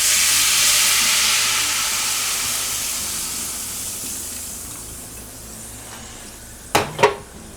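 Root beer and Worcestershire sauce hit a hot pan with a loud broad hiss that slowly fades to a quieter simmer, followed by two brief clunks near the end.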